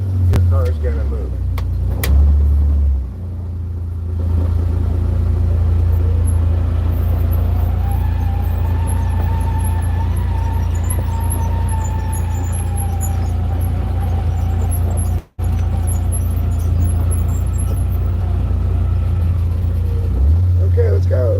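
A small wilderness car drives with a steady, loud engine drone throughout, briefly rising as it pulls away, with a short cut-out partway through; a person talks at times over the engine.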